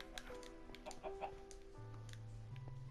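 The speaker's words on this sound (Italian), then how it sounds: "Sono dei polli qua dentro?" Chickens cluck quietly inside a Minecraft game, with scattered short clucks over faint game background tones and a low hum.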